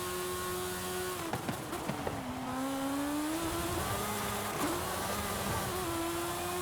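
A small, highly tuned car in Forza Horizon 5 is held high in the revs, its engine droning in a steady loud whine that dips and climbs with gear changes, with brief clatters and a faint tire squeal.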